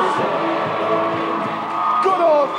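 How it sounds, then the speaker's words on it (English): A studio audience cheers and applauds for Cliff Richard on a Saturday chart show, a steady crowd roar with whoops running throughout, a presenter's voice cutting in over it near the end. "Keep the applause going for Cliff Richard there."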